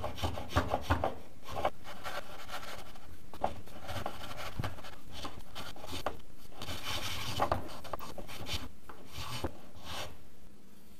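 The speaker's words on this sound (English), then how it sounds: "work on removing the kerf marks with the spoke shave" Spokeshave shaving kerf marks off wood for a custom guitar holder, a close, continuous scraping and rubbing texture in quick repeated strokes, with no talking.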